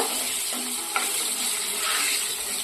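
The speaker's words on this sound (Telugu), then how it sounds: "ఇప్పుడు ఈ ఎండుమిర్చి వేగిన తర్వాత" Dried red chillies frying in hot oil for tempering a Telugu kalimi kaya (karonda) chutney, with a steady, soft, continuous sizzle and one brief clink partway through, no voices.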